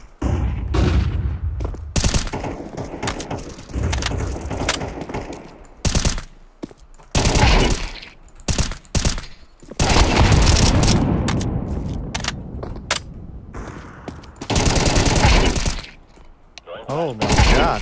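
Loud, close automatic rifle sprays in CS:GO 2 come in several long bursts separated by brief pauses, with sharp repeated cracks and occasional booms, and talk in between.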